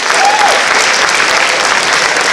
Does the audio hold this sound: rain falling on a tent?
no